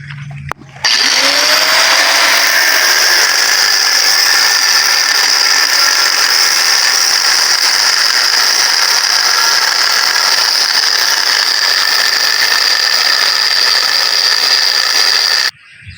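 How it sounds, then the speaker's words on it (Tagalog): An angle grinder cuts through an aluminium car engine cylinder head at a junk shop, a loud, steady high-pitched whine with gritty rasp that runs unbroken for about fifteen seconds after a brief start, then cuts off. "Biyakan na lang natin dito ng grinder para sinsilin na lang natin."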